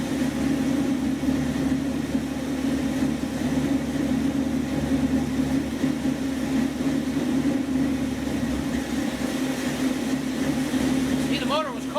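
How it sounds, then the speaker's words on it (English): A car engine with a freshly rebuilt Edelbrock carburetor idles from a cold start, holding a steady, close, mid-pitched rumble that runs evenly throughout. "See, the motor was cold when I started."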